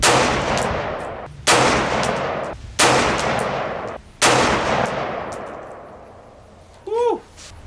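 Loud rifle shots from a .224 Valkyrie firing 75 grain TMJ ammunition outdoors, four sharp reports with long echoing decays spaced a second or more apart, followed by a brief voice at the end.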